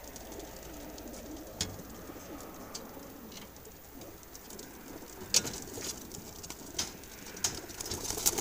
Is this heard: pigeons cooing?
yes